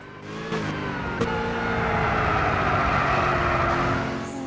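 A car launches hard in Gran Turismo 6 with wheel spin off the line, its engine revving loudly and climbing steadily in pitch, heard alone and up close.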